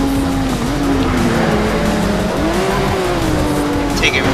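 A race car launching off the start line in the Need For Speed SHIFT video game: a loud, sustained engine drone rising and wavering in pitch, with a tire squeal near the end.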